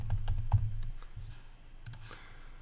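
Word typed on a computer keyboard while working in animation software: a short burst of quick, close key clicks early on, then a couple of isolated taps, with no voices.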